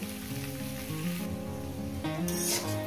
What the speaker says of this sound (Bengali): এবার পেঁয়াজটাকে দিয়ে অন্তত 5 মিনিট ভেজে নেব